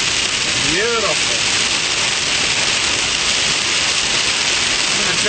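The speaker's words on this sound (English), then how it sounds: "Yeah, I love the rain." A dense cloudburst downpour hisses loud and unbroken, with someone briefly speaking near the start over the constant rain.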